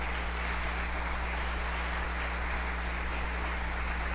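A church congregation applauds in steady, dense clapping that fills the space evenly from start to finish, loud and continuous with no voices rising above it.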